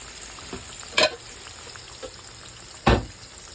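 Butter sizzles over crabs frying in a pan, a soft steady fizz punctuated by two louder clattering knocks of a utensil against the pan, no talk.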